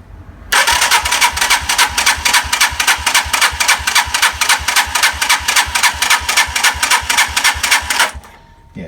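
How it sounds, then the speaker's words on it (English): A Senke X6 engine is cranked over with the throttle wide open, giving a loud, close, rapid and even pulsing chug that runs for about seven and a half seconds before it cuts off. "throttle wide open."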